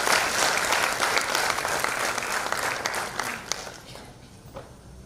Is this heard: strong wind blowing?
no